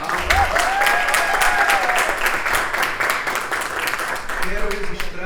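A room full of people applauds Rogério Alves at a summer school event on AI in education: sustained, loud clapping with a tonal whistle-like sound early on and voices murmuring underneath.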